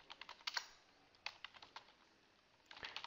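Someone types a Wi-Fi password on a computer keyboard while setting up an ASUS RT-AC68U router: quick bursts of crisp, close key clicks separated by short pauses, with no talking.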